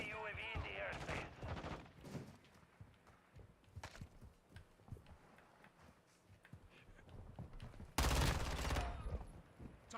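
Rapid bursts of automatic gunfire in a military shooter video game crackle in short volleys, mixed with footsteps and a loud sustained burst near the end, with radio-style voices speaking briefly.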